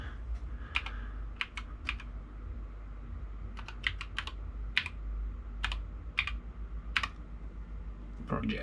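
Keystrokes on a computer keyboard while renaming a file, a few quick bursts of clicks spread over several seconds at moderate loudness over a low steady hum, no talking.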